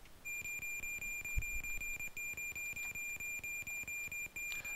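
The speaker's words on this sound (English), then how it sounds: "that loud beeping tells us we're getting closer to the end of the level" Video game beeping near the end of a level, a steady electronic tone pulsing in rapid repeated beeps over a quiet busy background, continuous and fairly faint.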